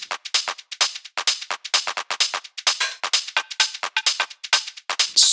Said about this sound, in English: just added some claps in here.